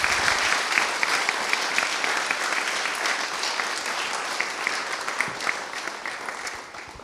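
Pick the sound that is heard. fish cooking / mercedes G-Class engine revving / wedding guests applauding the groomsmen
wedding guests applauding the groomsmen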